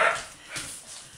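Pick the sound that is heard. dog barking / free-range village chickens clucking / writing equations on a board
dog barking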